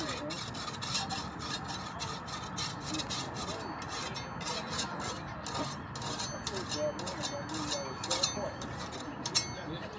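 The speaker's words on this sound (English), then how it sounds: "So the file is basically flat against the hoe. And we're just taking burrs off the back side of the bevel." A flat hand file rasps across the back of a garden hoe's bevel to take off burrs, in a steady run of close, rhythmic scraping strokes with no talk.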